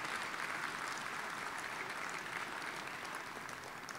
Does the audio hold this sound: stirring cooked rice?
no